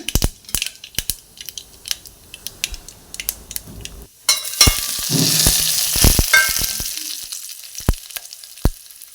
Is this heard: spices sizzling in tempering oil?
yes